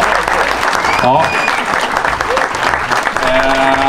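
Audience applause at the final of a burger-making competition, continuous clapping from a standing crowd with whistles and a brief spoken word over it.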